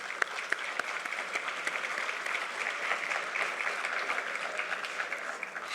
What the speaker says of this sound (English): I therefore request a very big round of applause for our dynamic teaching and non-teaching